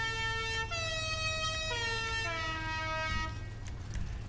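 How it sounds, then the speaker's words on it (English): Air horn on a car in GTA Online sounding a melodic musical sequence of stepped sustained notes, loud and continuous for several seconds over a low engine rumble. "The air horns work really well."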